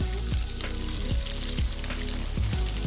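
Tofu pieces frying in a pan with a steady, close sizzle throughout, broken by a few soft scraping or clinking touches at regular intervals.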